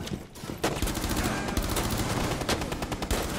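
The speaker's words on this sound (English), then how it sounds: "Shot Monty in the leg, just one lick" Rapid automatic gunfire from a first-person shooter video game, heard as dense, continuous bursts of loud shots filling the whole stretch.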